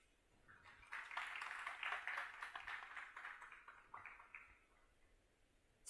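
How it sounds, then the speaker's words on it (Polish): An audience in a printing house gathering claps in a brief burst of applause that swells, holds for about three seconds and then fades away, fairly faint and distant. "Proszę o oklaski dla wszystkich"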